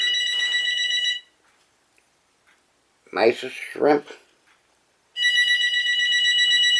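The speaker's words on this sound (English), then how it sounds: "I'm going to ignore that phone because that's more than likely just a stupid telemarketer" A telephone rings loudly in a home kitchen, two long electronic ring bursts with a gap between them, where someone briefly speaks.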